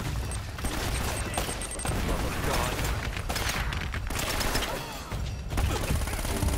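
Gunfire and grenade blasts in Uncharted: Drake's Fortune, a dense stretch of rapid shots and thudding explosions with game music, fairly loud, while a player talks over the action.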